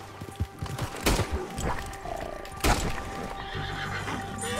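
A horse in Red Dead Redemption 2 neighs and whinnies in a couple of loud bursts, with hoof clip-clops and faint game ambience between them.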